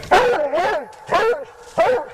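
A coon hunting hound bays loudly and close by after treeing a raccoon: three drawn-out, harmonic howling barks come in quick succession with short gaps between them.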